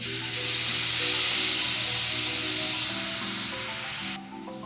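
Tamarind juice poured into a sizzling bitter gourd stir-fry, giving a loud sustained hiss of frying that stays strong for several seconds, then cuts off abruptly near the end, with no talk.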